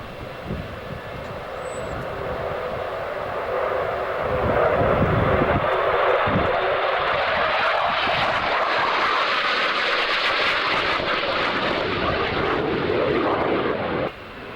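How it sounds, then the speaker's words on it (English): An F-16 fighter jet roars steadily overhead as it draws closer, a loud continuous broadband rush that swells and holds before cutting off at the end. "Oh, it's getting closer to us now. Looks like an F-16 to me."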